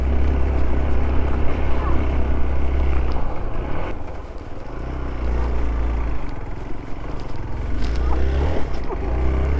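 A motorcycle grinds up a rough, barely existent mountain track in the Himalayas near Nagthali, its engine a loud continuous rumble mixed with wind and jolts, and a voice murmurs faintly in the background.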